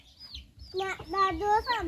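Chickens cluck in a farmyard, a couple of close, bright calls with harmonic tones rising over low rumble, while a voice may mix in.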